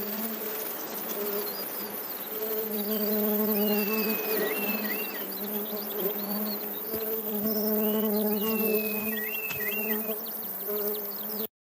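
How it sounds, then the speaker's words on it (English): Designed buzzing from a cluster of beehives at the far end of a meadow forms a dense, steady drone with wavering tones and faint chirps, sustained throughout at moderate level. "we can also see at the far end, we've got this collection of beehives"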